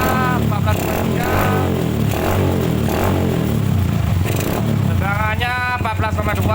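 A Yamaha Byson motorcycle engine runs close by with a rough, pulsing idle that rises and falls under blips of throttle, mixed with clattering mechanical noise and what sounds like a voice partway through.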